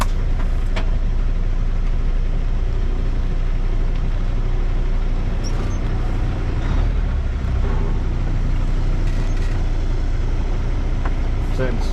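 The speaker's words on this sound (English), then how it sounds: "this tanker truck must have just pulled up" Tanker truck idling close by after pulling up, a steady low diesel rumble that runs throughout with faint clanks, while a person talks over it.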